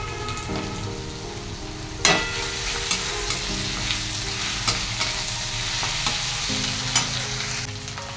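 Frying tomato with ginger added sizzles steadily in a pan, a spatula scraping and stirring through it with a sharp clank early on and several lighter taps.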